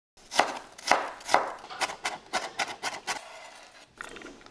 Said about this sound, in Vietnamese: Dùng một củ hành tím khoảng 20g, xắt ra và băm nhỏ.